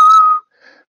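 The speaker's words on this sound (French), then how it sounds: "a sifflé des airs inconnus aux oreilles des passants chinois" A man whistles in a Chinese street: one loud, steady whistled note held close by, then a brief, fainter, softer phrase after a short pause.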